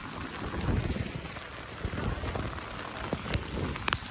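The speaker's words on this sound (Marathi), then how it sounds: "पाऊस काय थांबत नाही." Heavy monsoon rain pours down steadily in Karjat during flooding under a red alert, drumming on surfaces with scattered louder drops and a low rumbling underneath, close and continuous.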